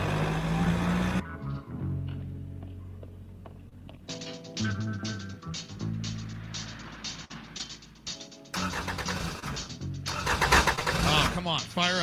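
A car engine cranking repeatedly without catching, bursts of starter whir broken by pauses, with someone talking and muttering between attempts, close up.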